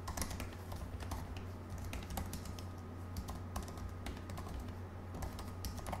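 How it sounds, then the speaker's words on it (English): Typing on a MacBook Air 2018 butterfly keyboard, a quick irregular run of soft, quiet key clicks close up over low background hum, no speech. "typing is incredibly quiet. Let's take a listen."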